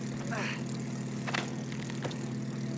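A propeller airplane drones steadily in the co-op video game It Takes Two, a continuous low engine hum with a few scattered game effects and brief voices over it.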